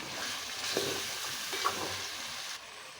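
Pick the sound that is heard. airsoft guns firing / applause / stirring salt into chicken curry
stirring salt into chicken curry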